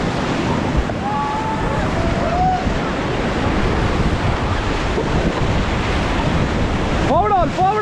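River rapids surge and splash around a raft at Rishikesh, a loud, constant roar of rushing water with heavy wind buffeting the microphone. Voices shout faintly over the torrent near the end.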